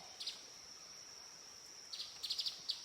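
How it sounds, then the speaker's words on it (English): Birds chirp outdoors during a morning water walk, a steady high insect-like trill running throughout with faint bird calls flickering at the start and more clustered chirps near the end, all quiet and distant. "You can hear the birds started singing when I started playing."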